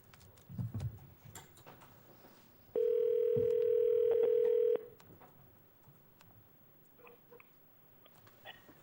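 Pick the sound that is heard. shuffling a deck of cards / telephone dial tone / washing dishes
telephone dial tone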